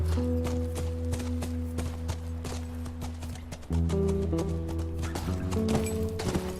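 Horse hooves clip-clop steadily in The Last of Us video game, a continuous mid-level walking rhythm over a sustained musical drone, with a brief shift partway through and no talk.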